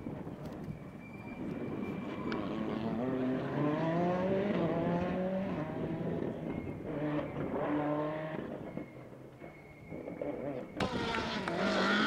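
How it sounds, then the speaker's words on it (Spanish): A Ford Fiesta R5 rally car at the Rallye Maspalomas 2015, its engine droning and rising through gears with changing pitch, moderately distant and steady, with a harsher burst near the end. "Aquí estamos viendo ese Ford Fiesta R5"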